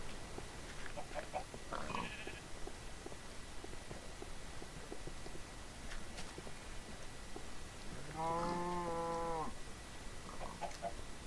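Minecraft sheep bleats: a short distant bleat early on and a clearer, wavering bleat near the end, over a low, faint ambient game background with no talk.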